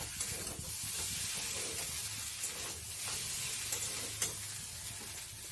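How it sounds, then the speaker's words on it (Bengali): Soy sauce stirred into a dish frying in a pan, with a soft close sizzle and hiss under light stirring and scraping throughout. "সয়া সসটাকে দিয়েও ভালো করে নাড়িয়ে ছাড়িয়ে নিচ্ছি"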